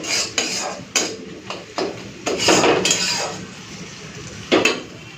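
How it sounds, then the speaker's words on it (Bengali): Spice masala cooking down in a pan for Bengali doi katla, with repeated scraping and clinking strokes of a spoon against the metal that come in irregular bursts, close and fairly loud, with no talk. "মশলাটাকে একটুখানি কষে নেব"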